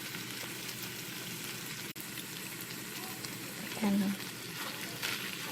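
Chayote sautés in a pan with a faint, steady hiss and crackle, broken by a brief spoken word.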